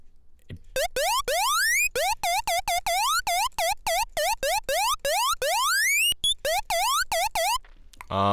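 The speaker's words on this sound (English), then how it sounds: "it basically induces a separate laser sound" Rapid bursts of laser zaps synthesized in Massive, each a bright pitch sweep upward, repeating in quick irregular rhythm, loud and electronic with no voices.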